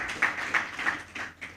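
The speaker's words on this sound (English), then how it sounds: "Please, a round of applause as we move on" Scattered clapping from a conference audience, a few distinct bursts of hand claps rising and fading over a short moment, fairly faint and sparse rather than a full ovation.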